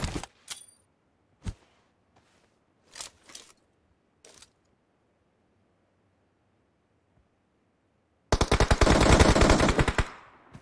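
Gunfire from the battle royale mobile game BGMI during a scrims fight: a handful of sharp isolated shots spaced apart, then a loud sustained rapid automatic burst lasting about two seconds, close and dominant, with no talk.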